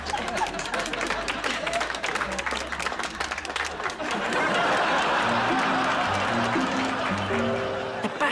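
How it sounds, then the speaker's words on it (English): Theatre audience applauding an amateur thespian society, dense steady clapping with some chuckles and chatter mixed in, fading as music enters near the end. "a big round of applause to the Woodford Green Thespian Society"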